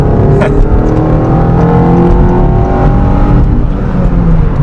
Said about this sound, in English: that's the new cam profile kicking in, because I mean, that's how VTEC works, right?